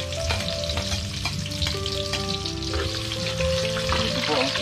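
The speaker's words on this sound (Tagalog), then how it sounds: "gigisa po na yung ating napuwang dahon ng kampalaya" Bitter melon leaves sautéing in a pan give a loud, steady sizzle with intermittent stirring scrapes and clinks of a utensil against the pan, continuous throughout.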